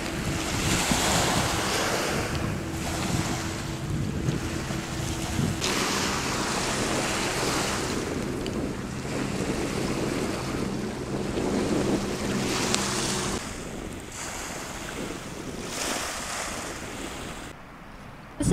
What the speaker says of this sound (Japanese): もうすぐそこが海です。